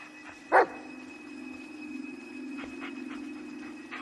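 A single sharp dog bark from a Blair Witch video game, fairly close and loud, over a steady low hum and faint rustling, followed by quieter scattered movement sounds.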